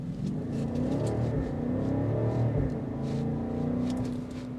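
The engine of a 2026 BMW X6 M60i rumbles and rises in pitch under hard acceleration on a test drive, heard steadily from inside the cabin.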